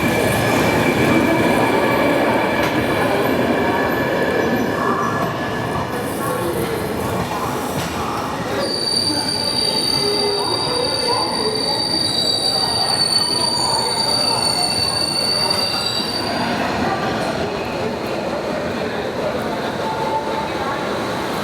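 Nanded Santragachi SF Express running out of Bilaspur Junction, with steady loud rolling rail rumble throughout and a long high wheel squeal partway through.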